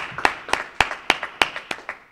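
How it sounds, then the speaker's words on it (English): An audience at a riverfront library event claps after an opening introduction, with a series of crisp, evenly spaced claps that are loud and near. "A round of applause for that great opening introduction"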